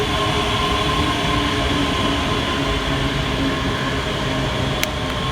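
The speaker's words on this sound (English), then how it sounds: "1527 ScotRail Express service carriages. from Glasgow Queen Street through to Edinburgh Waverley." A ScotRail class 385 electric train passing through Edinburgh Haymarket station, giving a steady, loud rumble of rolling stock that holds at near-constant level, with no clear wheel clicks and no speech.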